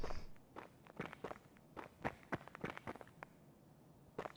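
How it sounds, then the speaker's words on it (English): Footsteps in the video game Escape from Tarkov, a quick irregular series of distinct steps at moderate distance, some heavier than others, with no talking. "Again, you can hear the footsteps."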